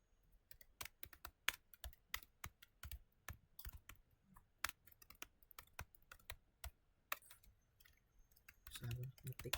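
Typing on a computer keyboard during a Cisco networking setup, rapid irregular close clicks and key taps in bursts, with a little low background sound near the end.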